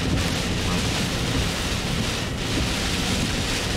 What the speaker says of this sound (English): Yeah, we're getting some better gusts here, guys.